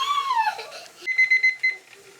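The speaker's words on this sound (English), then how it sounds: "that's the 10-minute timer" A kitchen timer goes off after steaming ground beef for pressure canning, a run of rapid, loud, evenly spaced beeps heard close up, with a brief sweeping tone just before.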